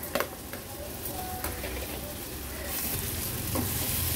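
A large, finely chopped tomato sizzles and is stirred in a hot pan on high heat, steady crackling frying with a few spoon scrapes near the start and the sizzle growing louder toward the end.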